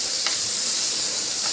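Ginger garlic paste hits a hot pan with stinging catfish (shing fish) being cooked as a village-style bhuna, giving a steady, close, bright sizzle that hisses evenly throughout with no talking.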